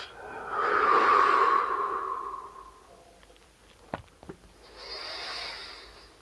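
Slow, deep breaths during a meditation: a long, loud inhale-like rush, a quiet pause with a couple of faint clicks, then a softer, airy exhale, close and alone.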